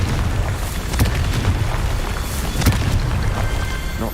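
Confringo fire-spell blasts in the video game Hogwarts Legacy, two sharp explosive booms about a second and a half apart over a dense, rumbling combat background with music and effects.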